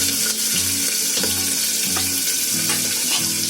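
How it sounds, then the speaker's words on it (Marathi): Onion frying in a pan with bay leaves and chili, a loud steady sizzle with low humming pulses and occasional stirring clicks. "कांदा थोडा फ्राय करायचा, नरम व्हायला द्यायचा."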